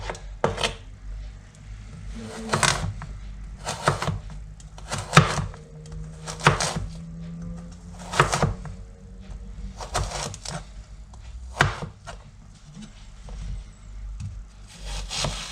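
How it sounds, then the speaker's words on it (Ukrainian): A knife slices onion into half-rings on a wooden board in steady, evenly spaced cuts, each a crisp thud with a brief scrape, close and moderately loud. "А цибулю ми наріжемо напівкільцями"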